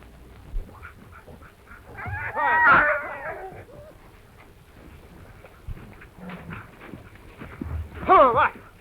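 Sled dogs on a snowy northern trail whimper and yelp in two bursts of high, wavering cries, one in the middle and a sharper one near the end, with quieter movement noise between them.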